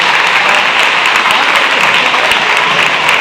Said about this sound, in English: What's the round of applause for?